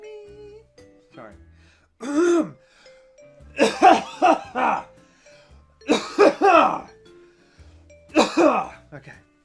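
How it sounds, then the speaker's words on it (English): A man on a toy-collector talk show clears his throat several times in short, harsh bursts spaced a couple of seconds apart, close to the microphone, with a few faint vocal sounds between them. "Sorry, I'm clearing my throat."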